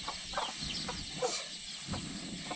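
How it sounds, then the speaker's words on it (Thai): Several chickens roam outside a rural home, giving repeated soft clucks at irregular intervals over a steady high-pitched insect buzz. "นี่ไก่ก็ออกมาหลายชุดทุกคน"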